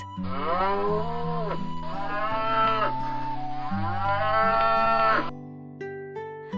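A cartoon cow moos in three long, loud, drawn-out calls in a row against a soft musical backing, which carries on quietly after the last moo.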